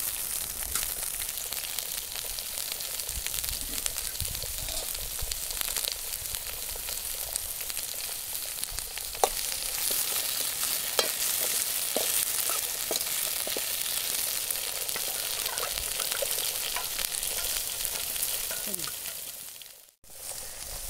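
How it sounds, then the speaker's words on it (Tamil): Brinjal sautés in a pan with a continuous bright sizzle and crackle, scattered pops and stirring clicks over a low rumble, and a brief dropout near the end. "கத்திரிக்காய் போட்டு நல்லா கத்திரிக்காய் வணக்குறேன்."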